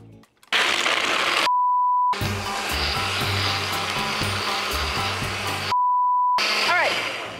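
A countertop blender runs at high speed, whirring loudly as it purees toasted almonds with filtered water into almond milk, a steady harsh motor roar interrupted twice by bleep tones.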